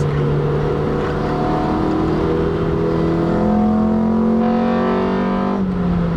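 A Honda VTEC car engine revs loud and close, its droning pitch climbing steadily upward through the gears over several seconds before dropping briefly at the end.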